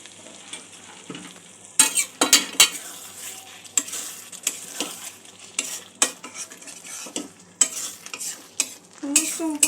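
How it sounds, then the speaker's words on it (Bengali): Paneer cubes for a creamy North Indian–style curry are dropped into a hot pan with a splash of water, bursting into loud sizzling with repeated spatula scrapes and stirring knocks throughout, no voices. "পনিরগুলো আমি দিয়ে দেবো এক এক করে। সামান্য একটু জল দিয়ে দেবো।"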